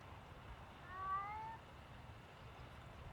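A cat meows once, a short rising-and-falling call near the middle, faint against a low steady room hum in a workshop where a horn is being greased.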